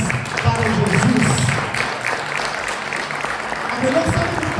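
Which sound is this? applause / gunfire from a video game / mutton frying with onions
applause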